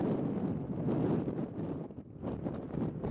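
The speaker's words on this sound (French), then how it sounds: "le vent violent devient glacial." Strong, icy wind on the slope below the Red Crater summit in New Zealand buffets the microphone in heavy, gusting roars, the rushing noise rising and falling without letup.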